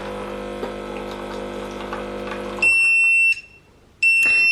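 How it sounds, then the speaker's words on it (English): After hot water pumps and pours from a baby formula preparation machine, a loud, steady electronic beep sounds twice, each tone lasting under a second with a short gap between. "Then it will beep and the light will go red."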